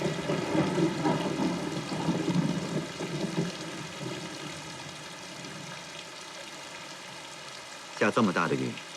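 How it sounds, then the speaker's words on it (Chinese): Heavy rain pours steadily in a war film scene, a dense continuous hiss throughout, joined near the end by a brief burst of louder noise. "下这么大的雨"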